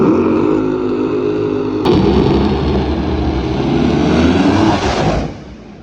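A drag racing car blasts past spectators at 328 mph during a race at Bristol, its thunderous engine roar loud and close for several seconds before cutting off sharply and fading.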